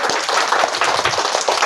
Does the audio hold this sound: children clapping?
yes